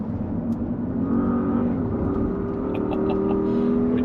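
A Porsche Cayenne Turbo E-Hybrid drives on an undulating race circuit, its engine holding a steady, close droning note with a rising whir as it accelerates, with no talking.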